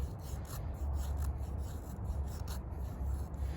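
A SteelWill Druid 205 knife shaves thin curls from a piece of wood, giving a steady close raspy scraping with quick repeated strokes and no talk.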